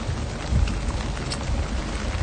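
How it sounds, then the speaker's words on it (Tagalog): Heavy rain pours steadily in Venice, a dense continuous hiss close by with no breaks. "Grabe naman yung ulan"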